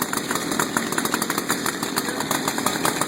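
A chainsaw runs at idle and light throttle during a daily check, its chain throwing oil, a close, buzzing two-stroke drone with rapid pulsing chatter and no talk.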